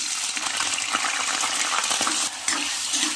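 Potato pieces frying in hot mustard oil with golden garlic, a steady loud sizzle and crackle with a few stirring scrapes, close and continuous with no talk.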